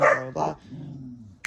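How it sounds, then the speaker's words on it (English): A pet dog gives a couple of quick barks followed by a short whimpering whine, close by, with a brief yip at the end. "That's my dog."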